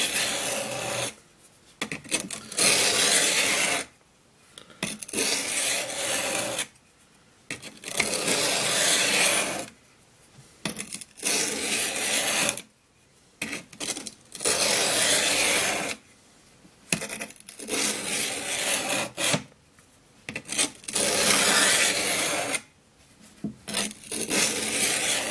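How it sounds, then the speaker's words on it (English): A knife is drawn across the soft stone of an Apocabox bench sharpener in repeated gritty rasping strokes, each lasting a second or two and separated by short pauses, loud and close with a steady back-and-forth rhythm. "This feels like such a soft stone, and I'm going to tell you, it's putting almost a shaving edge on there."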